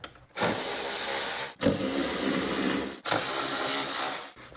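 A ratchet wrench drives two 10 mm bolts back into the relay box of a 2004-2009 Toyota Prius. Three loud, sustained bursts of close mechanical whirring are separated by brief pauses, with no talking.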